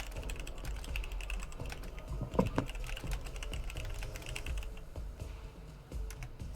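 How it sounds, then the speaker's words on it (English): Rapid keyboard typing clatters up close throughout, dense uneven keystrokes on a computer keyboard during an online tabletop role-playing game session, with a brief louder burst of clicks partway through and no one talking. "I'm sorry, I was typing"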